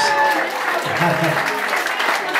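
Steady applause from a crowd at a Thai birthday blessing dance, dense clapping filling the whole stretch with a murmur of voices underneath.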